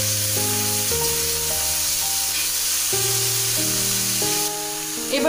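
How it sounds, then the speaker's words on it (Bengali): Chopped tomato goes into a pan of scrambling eggs, giving a steady close sizzle and frying hiss under a stepped background melody, with a brief clatter near the end. "এ পর্যায়ে দিয়ে দিচ্ছি 1 কাপ পরিমাণ টমেটো কুচি।"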